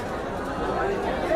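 Crowd chatter fills the queue at Mahakaleshwar temple in Ujjain, a steady, dense murmur of many overlapping voices close around, with no single voice standing out.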